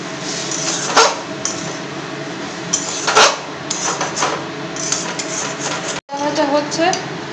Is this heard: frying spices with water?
yes